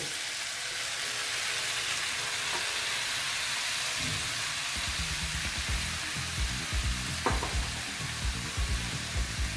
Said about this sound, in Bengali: এখন আমি এখানে দিয়ে দেবো এই দেখো এই চালকুম্বোগুলো